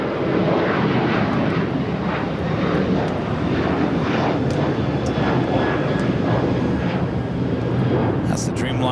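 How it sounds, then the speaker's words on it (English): An El Al Boeing 787 Dreamliner airliner pushing back at Los Angeles International Airport before a flight to Tel Aviv, its engines producing a loud, steady, broadband roar that holds unbroken for the whole stretch. "Got the El Al Dreamliner now pushing back flight 6 to Tel Aviv."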